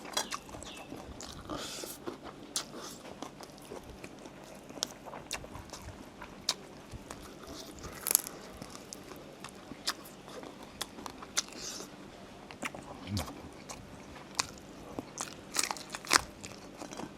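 Crispy battered fried chicken wings being bitten and chewed up close, with repeated sharp crunches and crackles over a quiet background and no talking.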